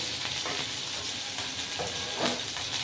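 Onions frying in a hot pan with tangra fish, steady sizzling and crackling, continuous and close, with a slightly louder burst of hiss near the end.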